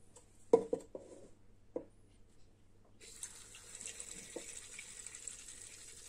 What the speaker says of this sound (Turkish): Kemikli etlerimizin üzerine geçecek kadar da su ilave edeceğiz.